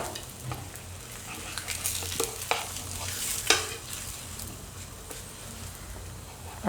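A bajra millet flour paratha roasts on a thick griddle over a low gas flame, giving a soft, continuous sizzle broken by scattered clicks and light scraping taps.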